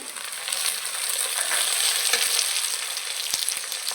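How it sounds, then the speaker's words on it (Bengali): Onions and chopped tomatoes fry in a pan for a chicken curry, giving a steady close sizzle with occasional stirring clicks and no talk. "পেঁয়াজ আর টমেটো ভাজা হয়ে গেছে"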